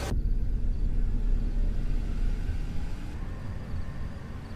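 A car engine rumbles steadily close by, a low continuous drone that begins abruptly and holds at even loudness as the vehicle pulls away, with no voices over it.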